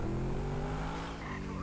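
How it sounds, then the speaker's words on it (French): The Adder supercar's big engine idles and revs in GTA 5 on Xbox One, a low steady rumble with layered harmonic drones and a brief rising whine near the end, loud and continuous. "vous entendez déjà bien le gros moteur de la Adder"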